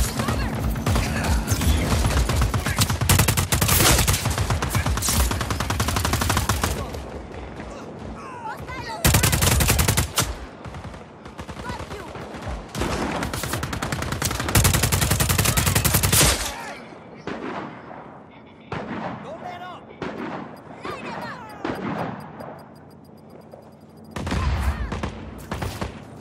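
Heavy gunfire in the video game Just Cause 4: dense bursts of rapid automatic fire and blasts in long loud stretches, broken by shorter pauses with scattered shots and some game speech.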